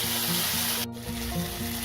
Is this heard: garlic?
yes